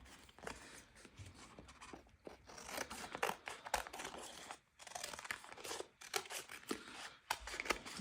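Scissors cut Christmas paper into three strips for junk journal embellishments, giving a close run of crisp snips mixed with paper crinkling and rustling, with no talking.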